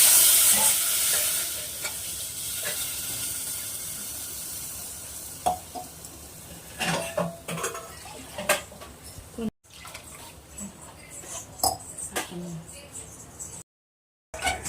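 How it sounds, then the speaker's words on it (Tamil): Roasted semolina is stirred with milk in a pan for rava payasam, giving a fading hiss followed by intermittent scraping and clicking stirring sounds, close up, with brief gaps in the sound. "நல்லா கட்டி விடாம நல்லா கிளறி"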